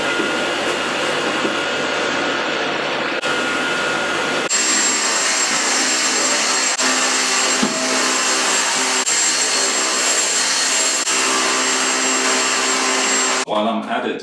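Vacuum dust extraction hooked to a saw cutting plywood indoors in an apartment, a loud steady whine and roar that shifts pitch at several points, running without pause.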